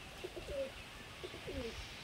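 Golden pigeons in a loft giving soft, low cooing calls in short repeated phrases, quiet and close against faint background noise.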